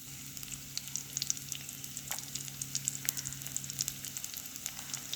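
Garlic frying in hot oil as the base for a Sri Lankan mango curry, a steady close sizzle with small crackling pops scattered throughout, heard alone without voices.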